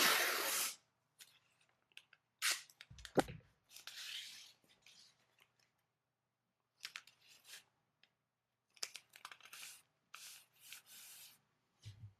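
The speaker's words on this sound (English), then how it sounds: "Let me get some tape here." Tape is pulled and torn off the roll in a series of short rasping rips and crinkles, separated by quiet gaps, with a loud tearing burst at the very start and more near the end.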